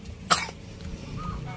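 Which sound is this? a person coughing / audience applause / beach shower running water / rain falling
a person coughing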